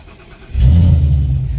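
A Ford car with a 6R80 automatic transmission sits quiet, then its engine note jumps to a loud, steady low rumble as it is put into drive.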